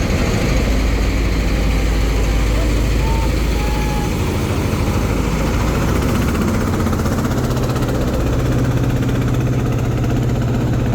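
Engine of the large Parabat 18 passenger launch departing Barisal, a loud, steady low diesel rumble and drone that deepens slightly partway through.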